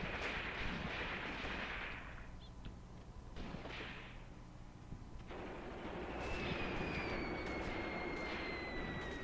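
Artillery spotting rounds in Graviteam Tactics, a Kharkov 1941 battle, thud and rumble at a distance in a few scattered bursts over a steady low battlefield din, with no talk.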